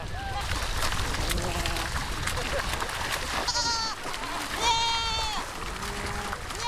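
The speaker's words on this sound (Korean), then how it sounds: "양과 염소는 낙타보다 더 잘 미끄러진다" Sheep and goats crossing a river in the Mongolian taiga bleat repeatedly, loud and close, over rushing water and splashing, with someone speaking as narration throughout.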